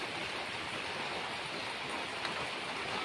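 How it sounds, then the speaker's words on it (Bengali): Steady, dense rain hiss fills the air, an even wash of falling drops with no voices over it. "দেখো আজকে ওয়েদারটা বন্ধুরা বৃষ্টি পড়তেছে"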